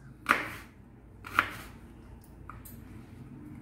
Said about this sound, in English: I'm going to cut all these also, not into fine pieces but thin longer pieces.